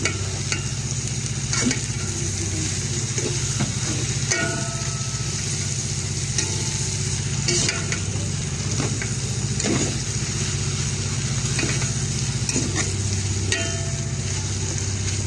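Chayote and siomai stir-fried together for a special bihon dish, a steady sizzle in a pan with stirring scrapes and clacks throughout, fairly loud and close, with a faint engine hum in the background.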